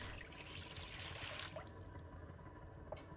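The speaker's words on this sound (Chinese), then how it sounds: "倒入清水" Clean water pours into a cooking pot with a faint, steady trickling splash that thins out partway through, quiet and close.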